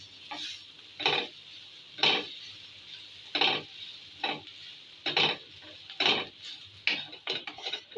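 Flour being stirred as it fries in a pan for chicken patty filling, with a steady rhythm of about ten scraping, sizzling strokes roughly one per second, close and fairly loud, with no talking.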